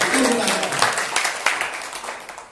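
Congregation clapping during a church service in Jakarta, a brief burst of applause that tapers off, with a voice speaking over it.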